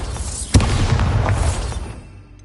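A Bombarda spell from Hogwarts Legacy goes off in one sharp, loud blast that rumbles on and fades away over about two seconds.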